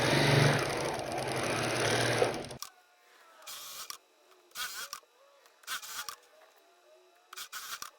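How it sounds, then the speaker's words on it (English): A sewing machine stitches the corners of recycled denim baskets, whirring continuously and closely for a couple of seconds, then running in several short, separate bursts with quiet pauses between them. "I'm just gonna line up those at the corners"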